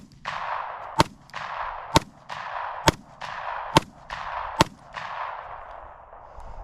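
A Taurus GC9 pistol fires six sharp shots spaced about a second apart, each loud report followed by a short decaying echo, with no talk over the shooting.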